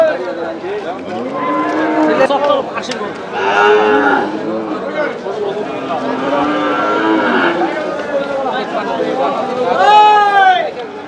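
Cattle low and moo repeatedly at a busy livestock market, several drawn-out calls rising over a crowd of voices talking nearby.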